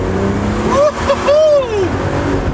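A BMW Z3 engine revs up and falls back as the car accelerates under power, a rising and sinking tone that is fairly loud and heard under someone talking.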